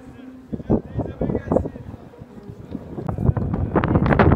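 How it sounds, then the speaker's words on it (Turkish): Strong wind at Ankara Castle buffets the microphone in rough gusts while people talk over the roar. "felaket bir rüzgar var"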